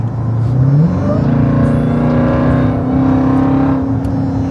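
Jeep Grand Cherokee Trackhawk cruising through traffic, its engine a steady loud low drone heard from inside, rising slightly in pitch as it accelerates, with no talk over it.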